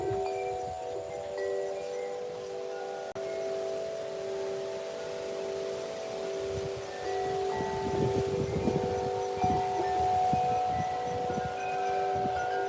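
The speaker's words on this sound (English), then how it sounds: "It's coming in a big gust." Wind gusts through trees with a steady rushing hiss that grows into a fuller, louder surge partway through and knocks leaves loose, while a faint high tone hums underneath.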